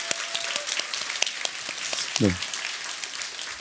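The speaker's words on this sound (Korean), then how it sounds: "우리 힘차게 우리 응원과 격려의 박수" Church congregation at a Sunday worship service claps in encouragement, a loud, dense burst of many hands close by, with a short spoken word from the pastor breaking through partway.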